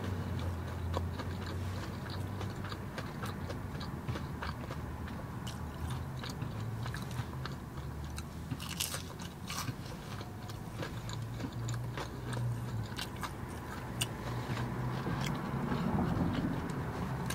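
Someone bites into and chews cheesy Korean mozzarella corndogs up close, with crisp crunchy bites and moist chewing repeating steadily throughout.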